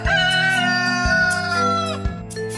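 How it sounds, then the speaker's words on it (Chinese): An animated cartoon rooster crows in one long, strained, wavering call that breaks and dips near the end, loud and close, with no talking over it. "铁哥，这只公鸡好奇怪，听得懂我说话"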